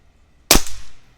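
A single sharp crack from a Niksan Archero .25 caliber PCP airgun fired at a downrange target, close and loud, decaying quickly into a short tail.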